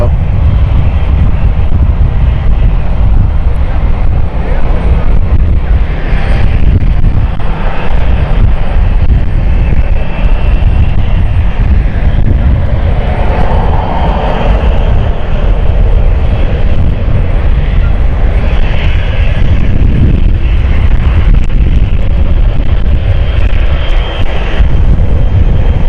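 Airliner engines spooling up at London City Airport, close and head-on, a loud sustained roar with shifting whine and wind buffeting throughout, a voice talking over it at times.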